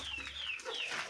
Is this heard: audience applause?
no